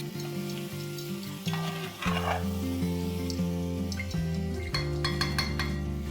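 Spices with garam masala powder are stirred in oil in a chicken potato curry pot, giving a steady sizzle with scraping and clinking of the spoon against the pot, close and continuous, over background music.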